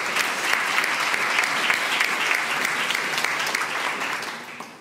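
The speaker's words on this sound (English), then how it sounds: "Can we give them all a big round of applause?" Loud, steady applause from the audience at a University of Illinois College of Medicine excellence awards ceremony, dense clapping that fills the room throughout before easing slightly at the end.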